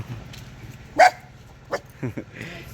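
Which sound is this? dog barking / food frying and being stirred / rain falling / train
dog barking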